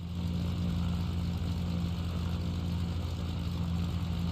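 Propeller plane engine in the flight game Legendary Pilots, a steady droning hum with strong low harmonics, held at an even loudness throughout without any clear rise in pitch.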